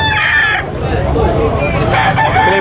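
A rooster crows loudly nearby at a chicken market in Tabunok, Talisay, its drawn-out call rising over a busy background of chatter and other birds.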